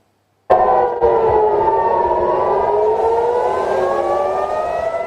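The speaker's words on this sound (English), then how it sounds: "Residents woke to sirens blaring across Tel Aviv earlier this morning." An air raid siren in Tel Aviv starts abruptly and blares loudly and continuously, its wailing tone slowly shifting in pitch, with nothing else audible.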